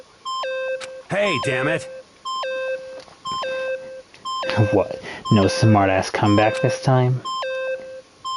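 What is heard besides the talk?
repeated beeping in the video game Danganronpa Trigger Happy Havoc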